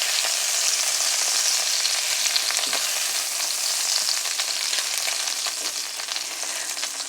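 Sea scallops sizzle and fry steadily in hot oil in a pan, a dense, continuous crackle close by with no voices over it.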